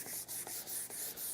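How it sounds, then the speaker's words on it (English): A hand scraper is drawn across a wooden tabletop in quick, repeated strokes, each a close, raspy shave separated by brief gaps, about five or six passes in a steady rhythm with no talking. "go back with the scraper right over the top of it and scrape just that area"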